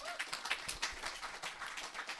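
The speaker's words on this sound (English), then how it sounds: "Can we have a round of applause, please?" Light applause from an audience at a talk on nature and inclusion, a faint, distant spatter of clapping that holds steady and fairly quiet.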